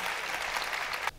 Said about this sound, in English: you can keep that applause going